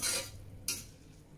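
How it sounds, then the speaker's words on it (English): Instant Mi Goreng noodles stirred with liquid seasoning in a bowl, a brief close scraping swirl at the start and another after a short pause, faint and without talk. "So we'll give that a quick mix."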